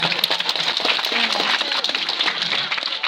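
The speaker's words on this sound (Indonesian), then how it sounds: "Tepuk tangan, tepuk tangan." Audience clapping at a religious haul gathering in Simeulue, a lively, dense burst of many hands with crowd noise and faint voices mixed in, loud and sustained.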